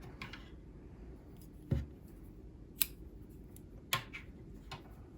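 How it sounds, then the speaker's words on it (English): Scissors snip crochet yarn in a quiet room, with a few sharp, isolated clicks and cuts spread over a few seconds, close and faint, without talk. "So I'll just cut the yarn."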